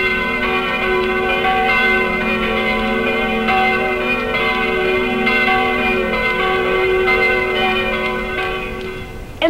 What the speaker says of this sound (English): Many churches have bells that chime to tell time,